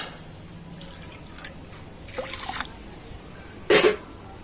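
Water is poured into a bowl of sugar to make syrup, with two short splashy pours, the second briefer and sharper, over a quiet room.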